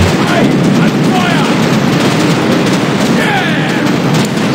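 Ship cannons on a schooner fire against man-of-war ships in the naval video game The Pirate: Caribbean Hunt, a dense, continuous barrage of booms and blasts under game noise.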